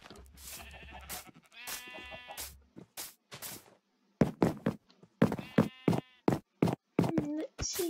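Sheep in the video game Minecraft bleat several times in short, wavering calls, loud and close, spread across the clip with brief gaps and some footstep-like thumps between them.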